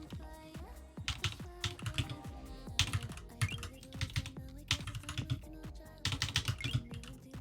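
Fingers type on a computer keyboard in quick, uneven bursts of close, crisp clicks separated by short pauses, with a faint voice at times in the background.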